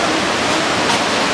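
A waterfall at a scenic viewpoint in a forest village during the rainy season gives a steady, loud rush of falling water, a continuous broadband roar with no voices.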